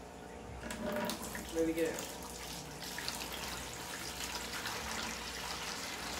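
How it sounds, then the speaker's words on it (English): Water and duckweed poured out of an aquarium container, a soft splashing trickle with a brief louder gurgle early on, then a quieter flow as a voice speaks over it. "can you get down so I can pour some of this duckweed out?"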